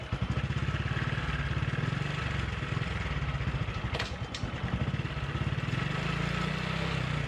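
Idling fuel-injected motorcycle engine with a sputtering, uneven running fault, heard close as a continuous throbbing chug with slight mechanical clatter and a brief dip in rhythm.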